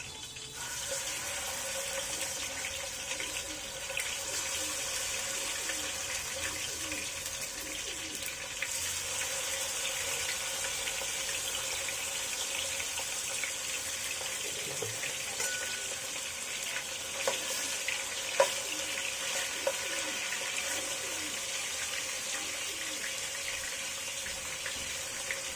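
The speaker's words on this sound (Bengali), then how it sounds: "আমি 1 ব্যাচ চিকেন দিয়ে দিয়েছি। এখন অপেক্ষা করব এর এক পাশ ফ্রাই হওয়ার জন্য।" Marinated chicken pieces fry in oil in a pan on the stove, a steady, dense sizzle that holds evenly for the whole stretch with faint occasional clinks, close and without talk.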